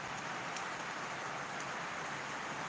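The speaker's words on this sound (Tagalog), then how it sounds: "Malakas yung ulan." Heavy rain falls in a steady, dense hiss, faint and continuous with a few sharper drop ticks and no voices.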